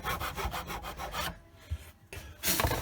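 A small saw rasps back and forth in guitar fret slots, cleaning them out on a fretboard: a rapid run of close, rhythmic wooden scraping strokes, a brief pause, then another burst of sawing.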